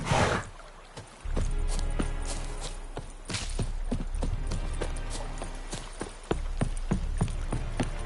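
Roach, the horse in The Witcher 3 on PS5, trots with a brisk clip-clop of hooves, evenly spaced, near and clear over a quiet outdoor game ambience.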